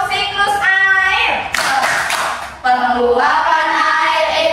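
A classroom claps along in rhythm to a chant about the water cycle, sharp hand claps landing in short patterned bursts close by, mixed with chanting voices.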